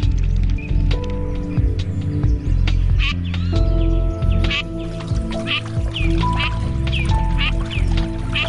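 Ducks quack repeatedly during courtship display on a river in central Italy's Tiber basin, their calls clear and fairly close over a steady, full background of flowing sound.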